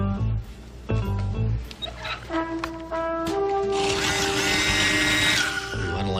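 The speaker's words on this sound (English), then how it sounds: "There's a drill in the suitcase." An electric drill whirs in short bursts followed by a longer, louder high-pitched run, heard close, with a few other noises around it.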